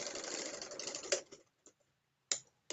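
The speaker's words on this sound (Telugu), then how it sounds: "రెండో కుట్టు అనేది వేయాలి ఇలాగ" A sewing machine stitching fabric, running in a fast steady whir for about a second before stopping, then a few isolated clicks and taps.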